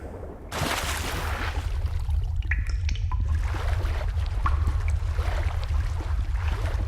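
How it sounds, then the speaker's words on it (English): A rushing waterfall in The Witcher 3: Wild Hunt, a steady broadband roar of falling water that swells in suddenly and continues loud, with a low rumble underneath and occasional faint in-game sounds. "It sounds like a waterfall."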